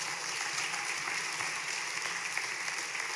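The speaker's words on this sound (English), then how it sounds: "Let's give the Lord a round of applause." Church congregation giving a round of applause during a sermon, a fairly faint, even spread of clapping heard at a distance throughout.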